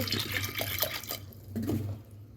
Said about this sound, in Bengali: মটরের ডাল আমি নিয়েছি প্রেশারে দিয়ে একটা সিটি মেরে দেবো জল দিয়ে দিচ্ছি